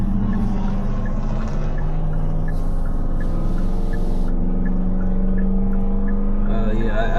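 A loud car with a rumbling engine runs steadily and passes by, a continuous low droning hum that swells near the end, heard alone.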